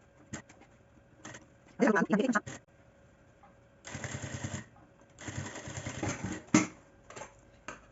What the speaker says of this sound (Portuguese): Agora, eu vou passar uma costura ou em cima da linha de quando eu apliquei o viés, ou um pouquinho do lado